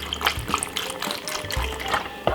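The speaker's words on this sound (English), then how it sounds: "we're gonna use some apple juice inside of it, instead of using water" Apple juice poured into a blender for a healthy juice recipe, a steady liquid splash and trickle up close, fairly loud and continuous with a few small knocks, no speech.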